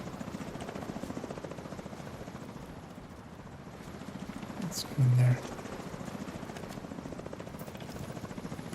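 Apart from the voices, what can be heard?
helicopter flying overhead in the video game The Division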